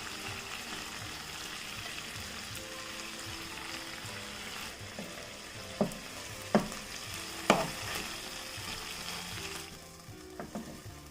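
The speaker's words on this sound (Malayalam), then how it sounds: "ബാക്കിയിരിക്കുന്ന ചിക്കനും ഇതുപോലെ തന്നെ ഇട്ട് നമുക്ക് ഫ്രൈ ചെയ്തെടുക്കാം." Chicken pieces for tandoori masala chicken fry in a pan with a steady, moderate sizzle, broken by a few sharp crackles and utensil clacks in the later half.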